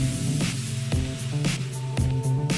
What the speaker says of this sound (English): throw them in the pan to fry up